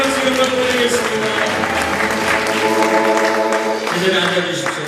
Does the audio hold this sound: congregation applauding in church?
yes